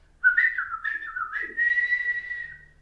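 A man whistles a short, sliding tune in imitation of an old street whistle, a single clear phrase of just under three seconds, close and alone.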